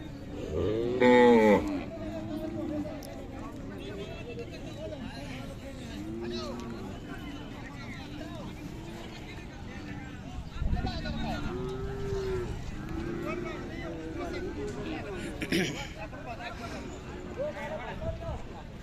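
A Khillar cow moos loudly once near the start at the Sangola cattle market, then a crowd murmurs and people talk over a busy outdoor hubbub, with another faint moo later.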